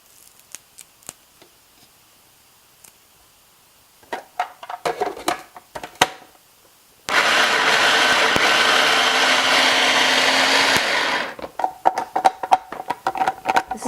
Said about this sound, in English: This is my method for the food processor.